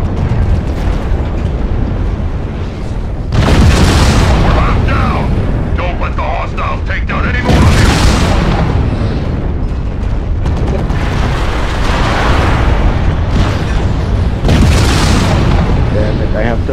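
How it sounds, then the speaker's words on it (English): Artillery explosions in a video game, heavy booming blasts arriving in several loud waves with rumbling decay, under a continuous roar of gunfire and intermittent radio-style talk. "I put artillery on him."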